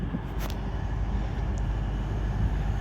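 Class 222 diesel passenger train passing a main-line station, a loud steady rumble with low engine drone and rolling noise filling the whole stretch, no talk.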